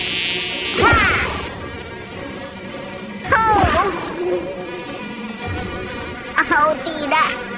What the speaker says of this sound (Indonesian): menghalanginya dari segerombolan lebah yang datang